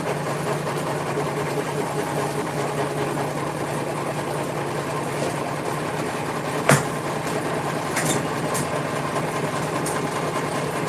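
An embroidery machine stitches a clutch in the hoop with a continuous, even mechanical hum and rapid needle drone, plus a brief sharp click partway through.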